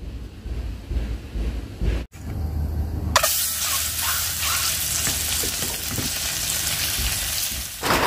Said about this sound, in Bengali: লবণ হলুদ মেখে নিয়ে ডিম 2টা ভেজে নিলাম